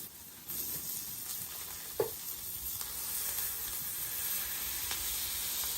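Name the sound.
brisket smash burger patties frying on a hot griddle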